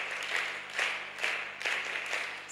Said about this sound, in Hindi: एक बार जोरदार वीरांगना ताली बजा करके अभिनंदन करें।